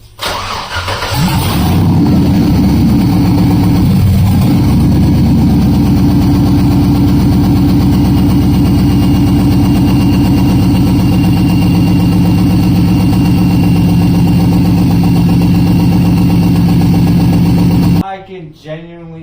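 An LS-swapped Chevrolet Colorado engine cranks and fires up, then settles into a loud, close, steady idle that holds for about fifteen seconds before shutting off, with a voice heard near the end.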